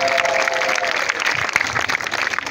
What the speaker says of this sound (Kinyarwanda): Komera Imana yacu amashyi cyane